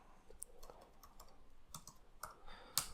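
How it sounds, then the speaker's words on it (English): Someone types on a computer keyboard with scattered, quiet clicks and taps in uneven bursts, close but faint, with no talk. "I'm typing like an absolute fucking boomer there"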